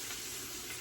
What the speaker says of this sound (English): We're gonna fry cabbage.